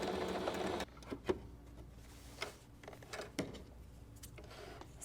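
A domestic sewing machine stitches the end of a cotton pillowcase dress seam with a small back stitch, a short loud whirring run cut off sharply, followed by quiet scattered clicks and taps.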